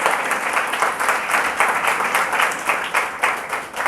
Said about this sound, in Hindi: पुनः एक बार जोरदार स्वाध्याय की तरफ से तालियां बजाकर स्वागत।